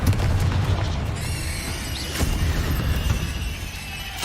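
A Confringo fire spell explodes in the Hogwarts Legacy game, a loud booming blast with crackling debris that rings and fades over a few seconds.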